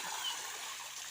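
Water overflowing from a tank and pouring down in a steady, hissing splash, fairly soft and unbroken, with no one talking.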